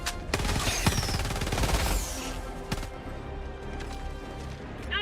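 Gunfire in the Star Citizen video game: a rapid burst of loud shots crowding the opening two seconds, then a few isolated reports spaced out over the rest, with a steady game background hum underneath.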